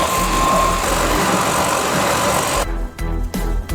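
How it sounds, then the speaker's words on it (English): A jigsaw with sandpaper taped to its blade sands steadily with a loud, buzzing mechanical drone, then cuts out in brief stuttering pauses near the end. "Apply some double-sided tape and sandpaper to the jigsaw blade like so. Now we can sand using our jigsaw."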